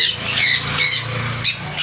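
Harsh, loud squawks from pet conures and other parrots close by in a bird shop, several raspy calls in quick succession with brief gaps between them.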